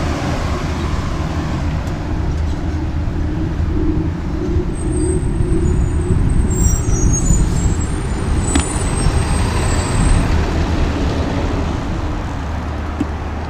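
A truck rumbling along a road at a stop sign on an incline, a heavy, steady low engine drone with traffic noise heard from nearby on a bicycle commute.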